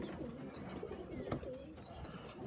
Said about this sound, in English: I'm going to catch them up and feed all them birds.